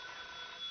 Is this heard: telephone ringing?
yes